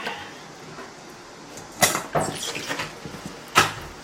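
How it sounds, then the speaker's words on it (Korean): Cucumber pieces tipped into a bowl for cucumber-chive kimchi, heard as a few distinct clattering thumps and knocks against the bowl over a quiet background. "여기에 오이를 넣겠습니다"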